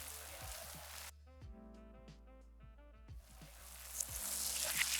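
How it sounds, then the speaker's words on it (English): Reversed sizzle effect, a hissing frying-like texture that swells and cuts off abruptly, followed by quieter tonal knocks and then a rising bright hiss building to the end, treated with a filter and reverb for a sci-fi portal sound. "So the first sound is the sizzle,"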